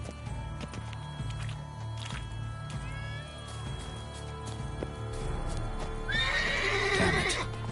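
Horse in The Witcher 3: Wild Hunt, Blood and Wine, giving a shrill neigh near the end over soft hoof clops and a low background game score.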